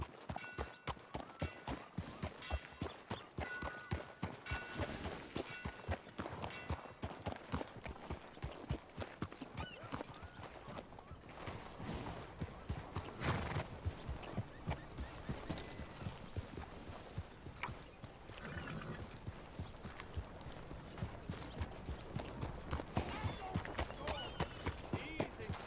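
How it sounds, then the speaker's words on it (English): Horse hooves in Red Dead Redemption 2 clip-clopping at a steady trotting rhythm throughout, close and clear, with occasional snorts and brief spoken voices over the hoofbeats. "Look at that horse there."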